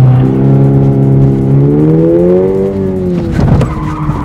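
A car attempts its first side turn, engine revving with rising pitch before the tires break into a short sharp skid near the end, close and loud.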